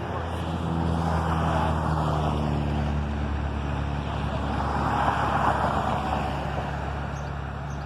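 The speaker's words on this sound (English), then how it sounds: "It's very hard to do videos with traffic." Road traffic rumbles past nearby, a continuous low drone with two broader swells as vehicles go by, steady and fairly loud throughout.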